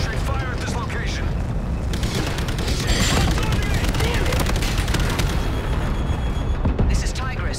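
Dense gunfire and explosions rattle continuously through a battle in the Jackal Assault VR video game, sustained bursts and booms loud throughout, with voices speaking amid the combat.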